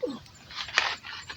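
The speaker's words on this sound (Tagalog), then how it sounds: "Ayan ang aso namin." A pet dog on a Filipino backyard poultry farm with broiler chickens gives a short rising whine and then some rough barks or yips, close by and fairly quiet.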